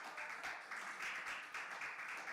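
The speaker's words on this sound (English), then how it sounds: "Clap it up for Mo" An audience at a National Action Network event breaks into steady applause and clapping, a dense, even patter that carries on throughout at a moderate level.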